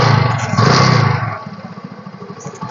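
A used commuter motorcycle's engine running nearby, loud steady idle with a slight rev near the start, then a lower chugging idle pulse.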